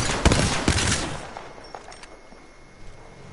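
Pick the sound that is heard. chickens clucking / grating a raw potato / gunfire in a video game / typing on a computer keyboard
gunfire in a video game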